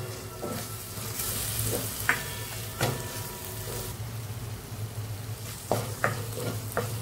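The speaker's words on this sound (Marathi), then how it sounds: "आता हे व्यवस्थित मसाल्यांमध्ये कालवा मिक्स करून घेऊया।" Oysters are stirred into masala frying in a pan, with a steady loud sizzle and intermittent spoon scrapes and clinks against the pan. No voices are heard.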